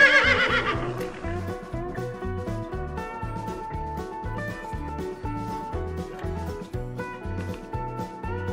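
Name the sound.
horse neighing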